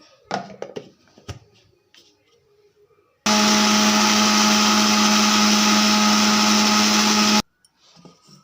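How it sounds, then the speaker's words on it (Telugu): A mixer grinder blends boiled, cooled milk with jaggery in one loud, continuous whirring burst of about four seconds, preceded and followed by brief clinks and handling of the jar. "మిక్సీ అయితే పట్టేసుకుందాం"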